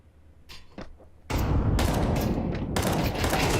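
Rapid gunfire bursts in a Counter-Strike match ending in a headshot kill, a few sparse shots at first and then a dense, loud sustained volley of rifle fire cracking continuously with no voices.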